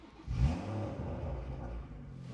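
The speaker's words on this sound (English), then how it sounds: "Let's start this car right" Engine of a fake BMW M2 car catches and revs up, then settles into a steady moderate rumble, heard close with no talking.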